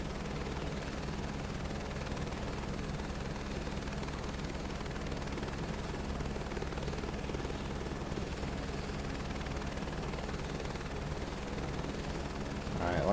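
Steady helicopter rotor and turbine drone in Microsoft Flight Simulator 2024, a continuous low whirring hum with constant loudness throughout, heard alone during a crop-dusting approach.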